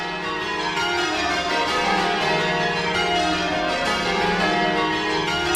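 Twelve church bells ring in a National 12-Bell Striking Contest final, making a loud, continuous and dense wash of overlapping strikes that carries on steadily without pause. No voices are heard.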